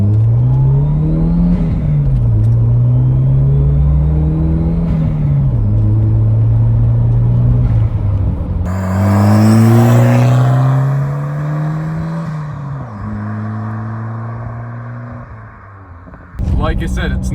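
A 1990s Volvo 940 Turbo, a large, heavy car, pulls hard from a standstill, its engine revving up through several gear changes with a loud, rising growl that eases off toward the end.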